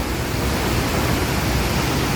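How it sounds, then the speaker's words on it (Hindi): Mountain waterfalls roar beside a trail on the Manimahesh Kailash pilgrimage route, a loud, steady, unbroken rush of falling water with no voices. "इन रास्तों में जब ये झरने पास पास आ रहे हैं"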